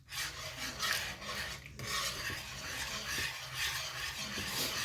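A whisk scraping and rasping steadily through a thick sauce in a pan, continuous rough rubbing strokes close by with no talk over it.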